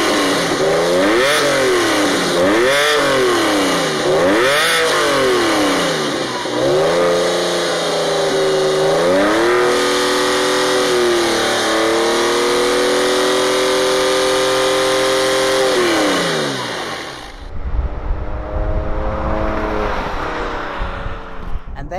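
Porsche 996 fitted with an aftermarket exhaust, revving hard in repeated rising and falling sweeps, then holding a steady pull while driving past, before the tone drops away to a low rumble near the end.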